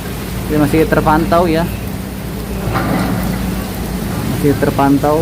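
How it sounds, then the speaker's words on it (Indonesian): Heavy rain pours down beside the Kali Baru river in Tambun, Bekasi, a constant loud hiss with passing car noise, while someone talks over it. "Inilah kondisi kalau saat hujan ya."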